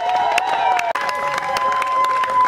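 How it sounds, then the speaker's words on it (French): Wedding guests at a French civil marriage ceremony cheer and applaud steadily, a dense crowd roar with scattered claps and shouts filling the room throughout. "je demanderai à M. Miché de se mettre debout, bien sûr, sous vos acclamations"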